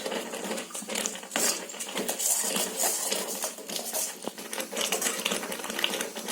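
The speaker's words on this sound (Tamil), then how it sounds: "கரும்பு சர்க்கரை போட்டு நல்லா கலக்கிடுங்க" Seembal poriyal being stirred with cane sugar in a pan, a busy metallic scraping and clinking of a spoon against the pan, continuous and close with no talk.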